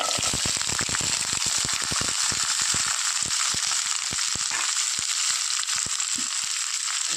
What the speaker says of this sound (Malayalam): നന്നായിട്ട് ഇങ്ങനെയൊന്ന് വഴന്ന് വരുന്നവരെ നമുക്ക് ഇളക്കിക്കൊടുക്കാം